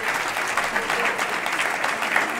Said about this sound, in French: ça vous donne l'occasion de vous applaudir encore une fois